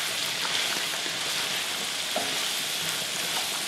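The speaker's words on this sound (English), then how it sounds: "I'm gonna let those saute for a bit" Meat and green vegetables sautéing in a pan for a spaghetti meat sauce, a steady close-up sizzle with faint scraping stirs, and no voices.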